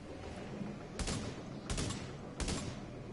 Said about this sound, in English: Shoot the first reservoir quick before he throws his grenade.